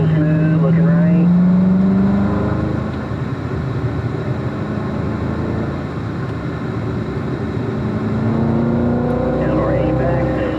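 A Chevrolet Corvette driving on a race track at an owners' driving school, its engine droning loud and close with rising and falling pitch as the throttle changes, while an instructor talks over it.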